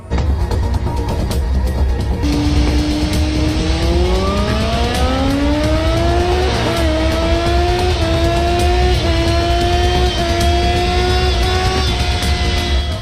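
A loud motorcycle engine revs up and accelerates steadily, its pitch climbing as the bike speeds off, with a constant roar throughout.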